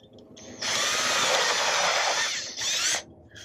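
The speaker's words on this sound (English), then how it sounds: "go ahead, drill a hole right here" A power drill bores a hole into an oak bowl blank, giving a loud, continuous whirring grind for about two seconds that briefly dips and then surges again before stopping.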